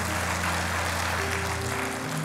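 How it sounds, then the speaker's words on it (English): Church congregation applauding a woman named Maggie as she is welcomed up front, a dense steady wash of clapping throughout with a low hum beneath. "Can we give Maggie a hand?"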